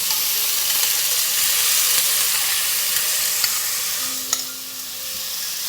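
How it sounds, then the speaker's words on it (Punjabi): Ground onion, green chili and garlic hiss and sizzle in hot mustard oil for a stuffed bitter gourd dish, a dense steady frying roar close up, with a brief metallic clink near the end and no voices. "ਜਦੋਂ ਤੇਲ ਗਰਮ ਹੋ ਜਾਏਗਾ ਨਾ ਉਦੋਂ ਆਪਾਂ ਇਹਦੇ ਵਿੱਚ ਪਿਆਜ਼ ਹਰੀ ਮਿਰਚ ਤੇ ਲਸਣ ਜਿਹੜਾ ਆਪਾਂ ਪੀਸਿਆ ਸੀ ਨਾ ਗ੍ਰਾਈਂਡ ਕੀਤਾ ਸੀ ਉਹ ਪਾ ਦਵਾਂਗੇ"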